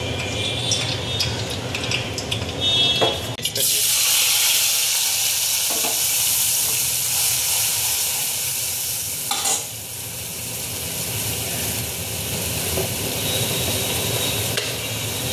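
Cumin, ginger, chili and tomato paste fry in hot oil for a chickpea ghugni, a loud, steady sizzle that surges near the start and runs on close and continuous, with a few stirring scrapes and no talk.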